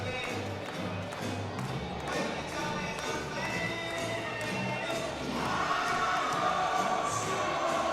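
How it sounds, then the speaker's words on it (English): A large fight-night crowd on its feet cheers as boxer Dave Jones walks toward the ring, a dense, steady roar of voices and applause that swells louder in the final seconds. "Crowd on their feet, clapping Dave Jones into the ring"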